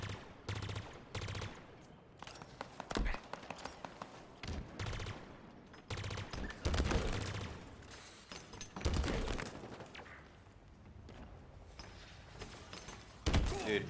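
Halo multiplayer firefight with rapid gun bursts and sharp grenade blasts going off in quick succession, loud and close, with faint voices now and then.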